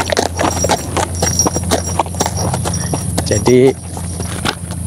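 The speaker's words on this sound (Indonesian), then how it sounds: "Kuda ini sangat jinak pemirsa." Hooves of a tame village horse clip-clop in a steady, close rhythm on hard ground, with a brief whinny-like tone near the end while someone talks over it.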